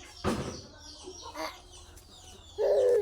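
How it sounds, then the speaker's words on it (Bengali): A chicken clucks close by outdoors, with a short call near the start, a quieter one in the middle and a louder drawn-out cluck at the end. "দেখেন আমার নানুর মুরকা।"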